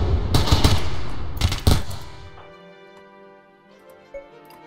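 Turrets in the RimWorld video game fire loud bursts of rapid shots in two clusters, then the noise fades into a quieter hum with a faint final thump.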